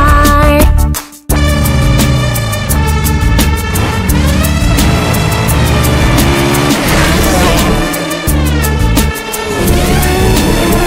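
Revving supercar engine effect with tire squeals and passing whooshes, set loud over a bright children's nursery rhyme tune that keeps playing throughout, with only a short gap near the start.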